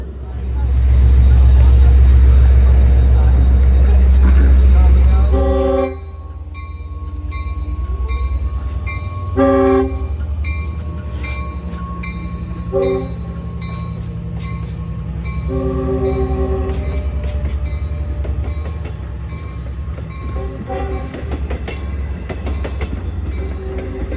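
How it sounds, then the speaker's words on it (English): A Long Island Railroad diesel train loud and close, a deep engine roar that drops off as it pulls out of the station, then rumbling wheels with horn blasts and clattering over rails. "As train 906 rolls out of the station"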